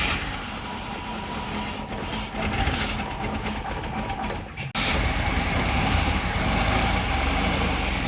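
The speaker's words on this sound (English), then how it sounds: "the V6 Buick EcoTech is up and running, and I've only just spun it over and started." A Holden Commodore's Buick EcoTec V6 runs steadily just after starting, a loud continuous engine drone with a rough, ticking texture and a brief dip partway through.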